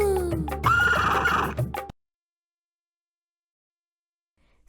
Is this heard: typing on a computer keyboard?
no